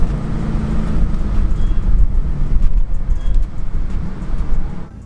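A 6.0-litre W12 engine in an Audi A8 idles after starting, a low steady rumble heard from inside the car that holds for several seconds and then drops away.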